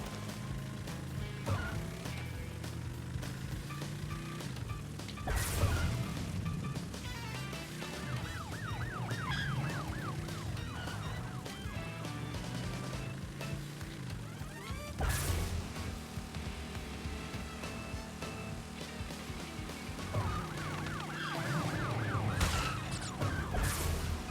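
Police car sirens wail and cycle steadily in the Crash Bandicoot N. Sane Trilogy, sitting loud over busy game music and effects, with sharp crash hits now and then throughout the long stretch.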